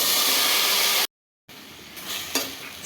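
Chopped bitter gourd frying in a pan gives a loud, close sizzle and hiss, broken by a short silence and then resuming with stirring scrapes.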